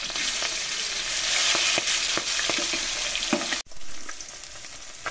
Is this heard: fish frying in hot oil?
yes